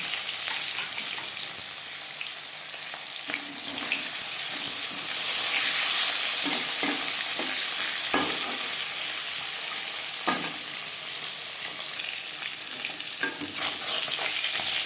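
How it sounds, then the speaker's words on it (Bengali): Hot refined oil sizzles and hisses steadily around marinated fish, with occasional scraping clicks of a utensil stirring in the pan; no talking. "চার চামচ রিফাইন্ড অয়েল গরম করে নিয়েছি এবার দিয়ে দেবো ম্যারিনেট করে রাখা মাছ"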